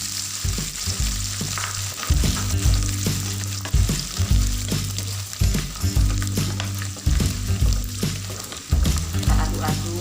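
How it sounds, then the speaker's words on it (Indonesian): Salted anchovies sizzle steadily in oil over medium heat as a utensil stirs them, giving a continuous close frying hiss broken by regular scraping knocks of stirring. "Goreng ikan asin ini teman-teman dengan api yang sedang ya, jangan terlalu besar."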